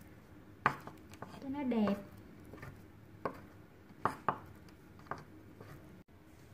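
A knife slices vegetables on a cutting board for vegetarian spring rolls, giving a few sharp, spaced taps close by while someone talks over the cutting.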